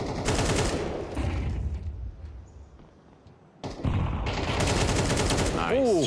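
Rapid bursts of gunfire in a Counter-Strike esports match, dense and loud with a brief lull before the shooting resumes, under a caster's commentary.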